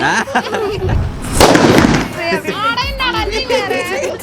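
A firecracker bursts once with a sharp crackling bang amid nearby voices talking before and after.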